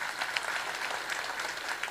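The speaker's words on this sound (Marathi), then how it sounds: "त्या गावकऱ्यांसाठीच टाळ्या झाल्या पाहिजे" Steady applause from a kirtan audience in a village gathering, a dense, even patter of many hands clapping at close range throughout, with no talk over it.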